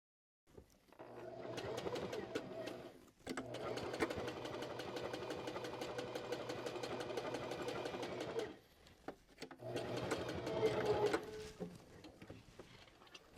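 A sewing machine tacks down a trouser hem in rapid, even stitching bursts, one long run and a shorter one split by brief pauses, close by and with no talk.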